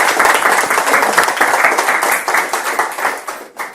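An audience at a motivational talk on steps to success gives a burst of loud, close clapping that runs steadily and fades at the end.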